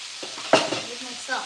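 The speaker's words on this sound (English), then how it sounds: "And now I'm gonna add my sauce. So, add the sauce, simmer on low." Sauce simmers in a pan on low heat with a soft sizzle, a brief stir and a scrape, close and quiet.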